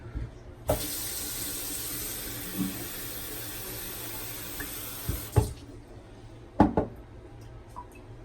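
Tap water runs steadily into a container while shaving lather is prepared, a close continuous hiss for several seconds that stops, followed by a few knocks and clatters.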